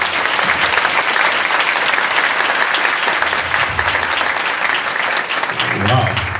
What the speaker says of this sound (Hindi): एक अच्छी ताली प्रभु के लिए जोर से।